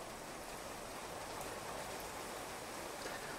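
Steady rain falls in the video game Clanfolk, a soft, even hiss that continues unbroken throughout with no voices.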